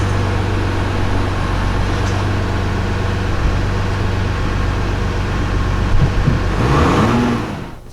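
A 2015 Jeep Grand Cherokee WK2 with the 3.0 diesel engine runs with a steady, loud low rumble throughout, swelling and revving briefly near the end before easing off. No voices are heard.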